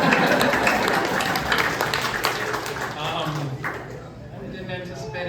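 An audience at an award benefit breaks into dense, hall-filling applause that starts loud and gradually thins and fades toward the end, with voices mixed in.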